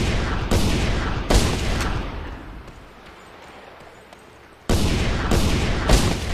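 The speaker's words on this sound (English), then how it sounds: "I always shoot the tires of this track." Gunfire aimed at truck tires in the open-world shooter Just Cause 2, heard as loud, sharp bursts of shots with a quieter lull in the middle before another volley.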